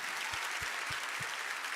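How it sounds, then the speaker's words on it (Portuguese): An audience at a church gathering claps in a brief, fairly soft round of applause, with a few low thumps under the steady patter. "vamos aplaudir o pessoal lá em cima, gente?"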